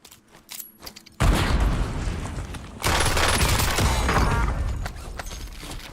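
Loud bursts of gunfire in a battle royale video game, a sharp volley followed by sustained heavy shooting that tapers off, with no talk over it.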